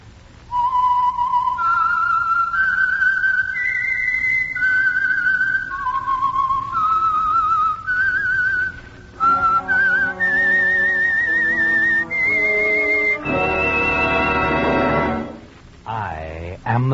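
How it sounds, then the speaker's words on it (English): A lone whistled tune identifying the Signal Oil program on a vintage radio broadcast, rising and falling in clear melodic phrases, heard alone, before a sustained orchestral chord swells and fades. "the signal to listen for is this whistle that identifies the Signal Oil program"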